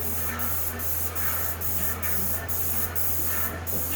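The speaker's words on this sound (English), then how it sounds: "It's just a light mist to get the paint on the product here." A Tritech airless sprayer lays a light mist of Renner wood coating onto a product onsite, a continuous close hiss with rhythmic pulses roughly every half second over a low steady hum.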